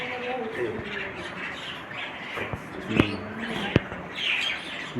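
Birds gather in front of a tea shop, squawking and chirping in short harsh calls at moderate distance, mixed with a few sharp clicks and knocks and low background voices.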